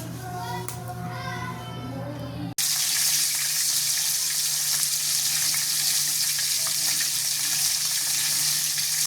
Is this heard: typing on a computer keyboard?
no